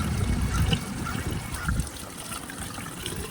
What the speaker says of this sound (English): top off the windshield washer.